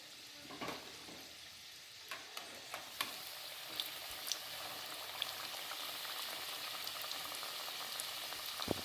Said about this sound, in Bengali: এগুলো ভাজা হয়ে গেছে, আমি তুলে নিচ্ছি।